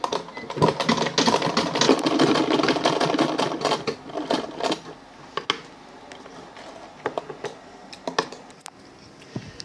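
A sewing machine runs in a steady, fast, rattling burst while stitching an Ankara fabric bag handle, then slows into shorter stop-start runs and scattered clicks, close and loud.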